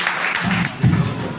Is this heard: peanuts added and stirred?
no